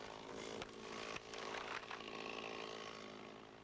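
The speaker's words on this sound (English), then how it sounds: "the chainsaw is still the tool of choice on smaller woodlots" Chainsaw cutting wood on a small woodlot, a steady loud buzzing drone with brief dips as the saw bites into the timber, running continuously without voices.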